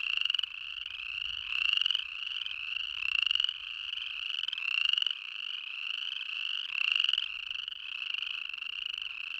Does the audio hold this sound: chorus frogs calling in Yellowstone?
yes